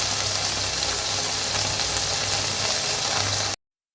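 Cashews and chicken tossed together in a hot frying pan, giving a steady, even sizzle of frying with a low hum underneath, close and continuous until it cuts off abruptly.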